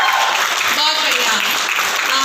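An audience at a Modicare business seminar in Palwal claps, a continuous burst of applause mixed with voices and some tonal background sound.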